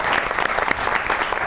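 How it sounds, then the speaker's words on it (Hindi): A studio audience on a talk show bursts into brief, loud, dense applause lasting just over a second. "तालियों।"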